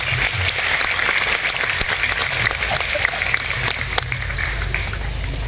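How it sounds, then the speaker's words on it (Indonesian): An audience claps steadily at a live Indonesian public gathering, a dense crackling wash of applause that carries on evenly throughout. "tepuk tangan untuk beliau."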